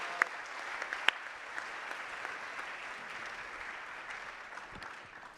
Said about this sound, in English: Another round of applause for all of our winners.